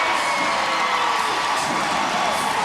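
A basketball arena crowd at the 2007 WNBA All-Star Game roars and cheers after a three-pointer, a loud, steady wall of shouting and whoops that holds for a few seconds.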